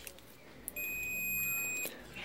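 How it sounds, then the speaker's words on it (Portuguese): A multimeter set to its continuity beep range, testing the armature of an Arno Tanquinho washing machine motor, gives one steady high beep lasting about a second, clear against a quiet background. "que nesse aparelho aqui é a escala de bip."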